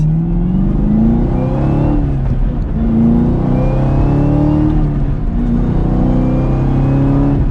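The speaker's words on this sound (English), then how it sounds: "we're going to make a quick U-turn here. Very, very tight in the steering. We'll give it a little bit of gas." A car engine revs loudly and steadily while accelerating out of a very tight U-turn, with rising whining tones over a constant close engine drone.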